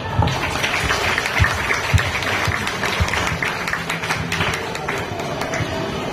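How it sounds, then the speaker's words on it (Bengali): Audience at a zero-waste programme at Shamnagar Balika Vidyalaya girls' school applauds steadily and fairly loudly, a dense wash of many hands clapping together, with scattered voices mixed in throughout. "আপনাদের সবাইকে অভিনন্দন জানার জন্য একটা হাততালি দেওয়ার"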